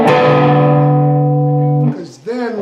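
A distorted electric guitar rings out a sustained note and chord from a song, holding loud for nearly two seconds before cutting off into a brief sliding phrase.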